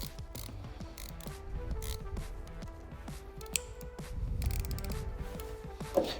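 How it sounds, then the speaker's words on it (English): Rotating an electric scooter handlebar anti-clockwise to tighten it on a Solar P1, a quiet close series of irregular mechanical clicks and creaks with some soft knocks, no talking. "in reverse order, anti-clockwise to tighten the bar"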